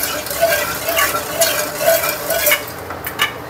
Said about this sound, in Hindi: आधी कटोरी के लगभग चीनी है, वो इसमें हम मिक्स कर देंगे